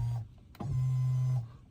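Electric steering wheel adjustment motor in a Tesla whirring steadily for about a second after a click, with a brief short whir just before it; close and alone, no talk.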